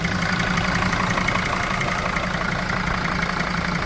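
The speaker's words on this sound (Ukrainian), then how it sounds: "Мягко, чисто працює двигун, ніяких нарікань немає." A 2006 Mercedes Sprinter 416 van's engine idles steadily under an open hood, a smooth continuous hum with a faint mechanical ticking layered over it, close and alone with no talking.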